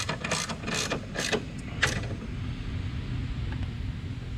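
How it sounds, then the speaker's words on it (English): A hand ratchet tightens a 12mm bolt on an oil separator can in a 2018-2020 Kia Stinger GT 3.3L, giving a few quick close clicks early on over steady background noise. "tighten up your 12mm bolt"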